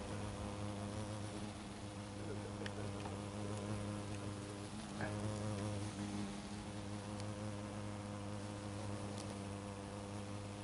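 Asian hornet flying close to a bush outdoors, a steady, continuous buzzing drone that holds throughout at moderate level with no talk.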